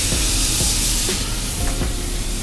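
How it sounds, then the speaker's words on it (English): Scallops, tiger prawns, clams, cherry tomatoes, onions and garlic sizzle in a hot pan in an Italian restaurant kitchen, a steady close hiss with small crackles and stirring taps. "Get it sizzling."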